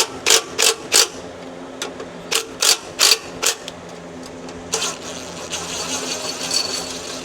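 A power tool with a 15mm socket removes bolts on a Gen 2 Ford Raptor intercooler install, sending out a series of short, loud buzzing ratchet bursts in an uneven rhythm, then a longer continuous whir near the end.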